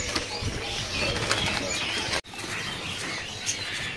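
Birds chirp and flutter at a bird market kiosk selling trogons and other songbirds, a dense, steady bed of tweets, calls and wing flaps close by, with one brief drop in sound midway.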